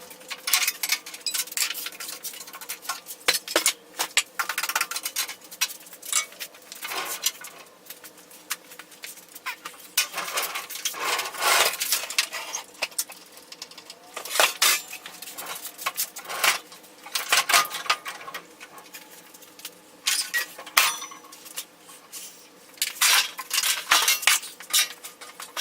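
A RIDGID R4512 table saw being taken apart, with intermittent metallic clinks and rattles of parts and tools, sparse and uneven bursts at close range with no talking.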